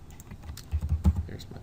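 Computer keyboard keys pressed in a quick burst of shortcut taps, a handful of close clicks in an uneven rhythm with faint voice sounds around them.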